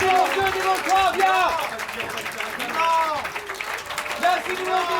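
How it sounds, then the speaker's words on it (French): Audience members applaud improv players at an improvisational theatre festival in Paris, their clapping running under overlapping voices and shouts that stay prominent across the crowd noise. "On applaudit numéro 2, numéro 3, bien."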